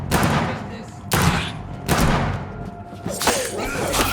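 Gunfire in the video game Vampyr: several loud, close shots ring out in separate bursts about a second apart, each with a sharp crack and a booming tail, with shouting voices in between.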